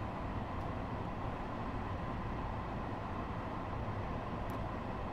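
An M7A commuter train runs along the Harlem–White Plains line in New York in Train Sim World 2, giving a steady, even rumble of wheels and motors with no talking.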